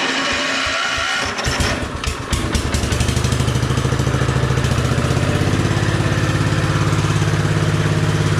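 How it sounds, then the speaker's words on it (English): Economy Power King garden tiller engine firing up after a brief start, then settling into a steady, loud, close idle with a continuous chugging drone. "So now we can fire it back up."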